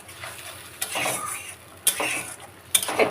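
Fried whole fish slid into a boiling fish curry and stirred with a utensil, giving a few sharp scraping and clinking strikes against the pan over a low simmering bubble, with no talking.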